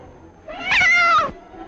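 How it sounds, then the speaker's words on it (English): A frightened cat lets out one loud, drawn-out meow from a 1940s movie trailer, rising and holding steady for under a second before cutting off, with a faint low hum underneath. "Yet a cat arches its back in fright."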